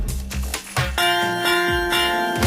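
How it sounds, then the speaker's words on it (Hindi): A school bell rings with a bright, sustained metallic tone that hangs steadily after a few sharp opening strikes, loud and close with no voices. "आज ये घंटी बजी जरूर है"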